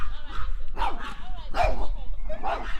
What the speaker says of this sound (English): my dog's going crazy out there.